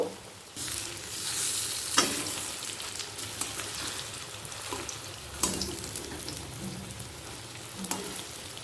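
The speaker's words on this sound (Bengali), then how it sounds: "ক্রিস্পি করে ভেজে নেব" Coriander leaf and onion fritters deep-fry in oil, a dense close bubbling sizzle that swells early then settles, with occasional sharp clinks and scrapes as the pieces are turned.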